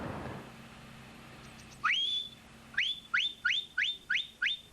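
A shepherd blows a homemade tin whistle with a filed hole, giving shrill upward-swooping blasts: one lone call, then a rapid run of six short repeated whistles, loud and close.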